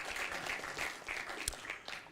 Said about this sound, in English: Round of applause for the Nido teachers out there.